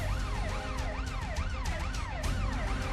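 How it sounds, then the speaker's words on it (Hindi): An ambulance siren wails in a rising and falling cycle within a police convoy on a road, loud and continuous with traffic rumble beneath. "एम्बुलेंस में बैठा है माफिया डॉन मुख्तार।"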